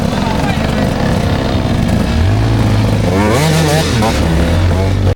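A KTM 200 dirt bike engine labours and revs as the rider tractors it up a steep rock step, loud and close, with the pitch rising and falling through the climb under steady mechanical noise.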